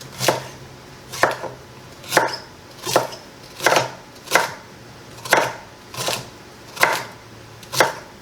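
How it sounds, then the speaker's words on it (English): A knife slices two small celery stalks on the diagonal on a cutting board, making about ten loud, close, evenly spaced chops at a steady rhythm, about one per second, with no voices. "We're going to use 2 small stalks of celery, and we're just going to slice those."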